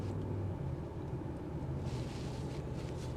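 A Range Rover Sport SV on a test drive gives a deep, steady exhaust rumble with low engine drone and road noise, continuous and fairly even from inside the cabin.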